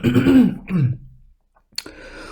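A close, gravelly throat clearing from a person with a cold, with a rough cough-like rasp, followed by a pause and another short throaty sound.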